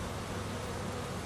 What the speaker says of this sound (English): I did see some bees bringing that orange pollen in